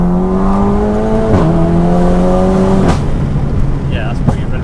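A 600 BHP VW Golf R accelerates hard from inside the cabin, the engine note climbing steadily through two gears with quick shift dips, then crackling pops as the throttle lifts, with people talking over it.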